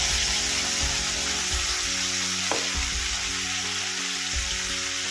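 Spice paste hitting potatoes in a hot pan gives a loud, steady sizzle of frying with stirring scrapes, close and continuous, no voices.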